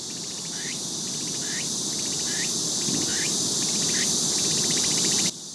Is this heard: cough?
no